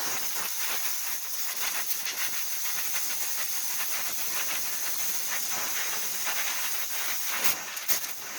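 Torch brazing a coupler onto cheap vice grips gives a steady, close hiss and roar of the flame running continuously throughout.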